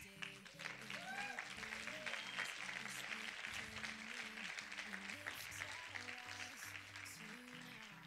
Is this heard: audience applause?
yes